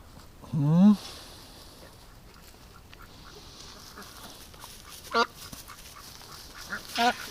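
Duck quacking while being chased and caught, with one loud squawk near the start and then brief scattered calls, amid faint handling noises.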